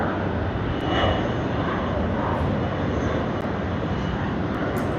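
Delta jet airliner taking off at Sydney Airport, heard as a steady, broad engine roar holding at an even level for several seconds, loud and continuous with no distinct breaks.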